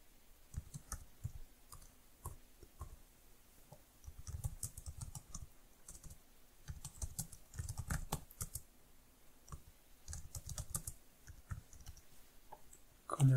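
Irregular bursts of typing on a computer keyboard, quick soft key clicks in clusters separated by short pauses, close and quiet with no talking.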